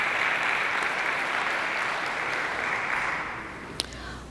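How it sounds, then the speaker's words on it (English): Audience applause at a university essay contest ceremony honoring student winners, a dense, even wash of many hands clapping that fades slightly toward the end, with one sharp clap standing out near the close. "Let's give them all a round of applause."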